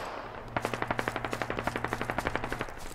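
Machine gun firing in the video game Squad during a British counter-insurgency battle: a steady, rapid burst of evenly spaced shots lasting over two seconds, loud and close, with no talk.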